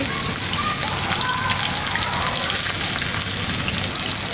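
Chopped onion hitting hot oil in a wok in a village kitchen while cooking a river catfish and eggplant curry, a loud, steady crackling sizzle close up with no talk.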